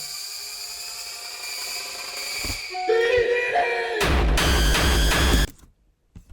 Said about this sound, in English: Here it adds some type of riser